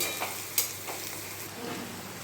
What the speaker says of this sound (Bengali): পেঁয়াজ আর লঙ্কাটা একটু ভেজে নেব অল্প